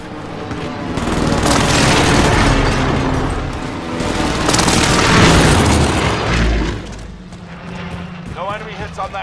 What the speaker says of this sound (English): Mark target for airstrike. This is Phoenix 3. Strike inbound.